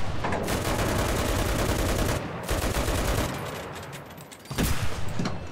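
An MG42 machine gun fires from a bunker in the WWII video game Enlisted, with long, rapid bursts of very fast shots, loud and close, briefly pausing before resuming.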